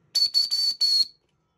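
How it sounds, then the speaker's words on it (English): A shrill whistle built into a military-style heavy-duty 18-in-1 folding tactical shovel blows in four quick, loud blasts close by, the last slightly longer, then silence. "I think that's a whistle. Look at that. That's a whistle."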